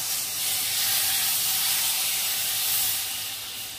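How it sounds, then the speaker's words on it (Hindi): A steady, bright hiss of spices crackling in hot oil for a tempering holds evenly for a few seconds before easing slightly. "अब क्या करेंगे, इसमें हम हल्का सा तड़का लगा देंगे।"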